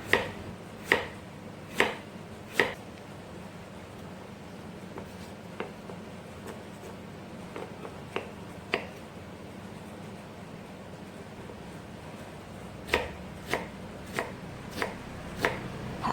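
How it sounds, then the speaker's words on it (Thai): A knife chops crisply through fresh, firm daikon radish on a board, julienning it in bursts of sharp regular strokes separated by pauses, close and clear over faint background hiss. "ต่อไปก็จะหั่นในส่วนของหัวใชเท้านะคะ เช่นเดียวกันค่ะ หั่นฝอย"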